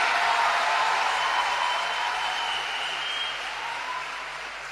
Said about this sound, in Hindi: तो एक बार जोरदार तालियां देश के प्रधानमंत्री नरेंद्र मोदी जी के लिए।